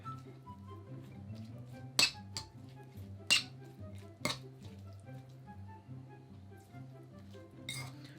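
A spoon mixing bibimbap ingredients in a bowl, including bean sprouts and salt, with a few sharp clinks of utensil against the bowl at irregular intervals over a steady tonal background.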